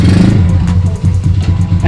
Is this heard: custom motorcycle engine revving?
yes